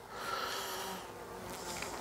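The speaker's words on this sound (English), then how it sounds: "And you get some bees popping out wanting to attack you." Honeybees buzzing from an opened hive during feeding with vitamin fondant: a faint, continuous drone that holds steady and swells slightly near the end.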